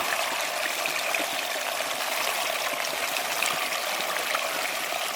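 Water rushes steadily through a gold sluice box set up in a clay pit, a constant close, broadband splashing flow with no voices.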